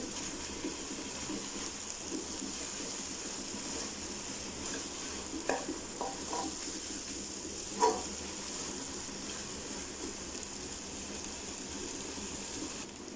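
Mutton brain is sautéed in a pan, producing a faint, steady sizzle with a few soft stirring taps and one brief clink, without talk.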